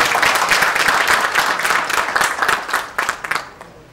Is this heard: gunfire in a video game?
no